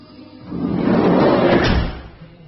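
A VW T25 van's sliding door runs along its track and shuts, a single rolling, thudding close of about a second and a half, heard nearby with no voices.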